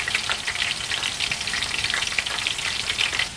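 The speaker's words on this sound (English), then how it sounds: "So our onions are deep frying." Oil crackles and sizzles continuously as onions deep fry, a busy bubbling hiss with no voices.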